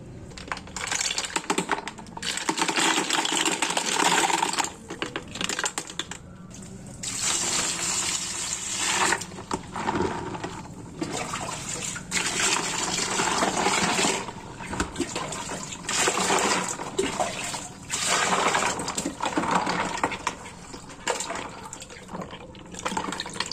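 Snails are washed in water, giving continuous splashing, sloshing and clattering shells that rise and fall in dense bursts, close and fairly loud.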